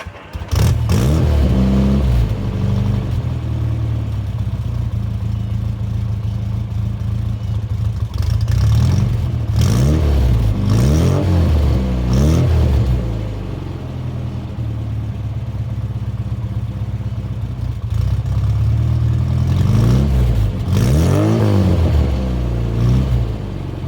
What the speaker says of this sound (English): It's such a unique, farty sounding exhaust